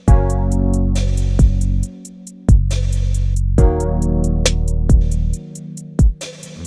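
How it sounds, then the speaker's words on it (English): A music track with heavy reverb applied directly: repeated percussive hits and sustained tonal chords, each strike trailing into long, washy decay that blurs the rhythm, with no voice present. "it's way too much reverb"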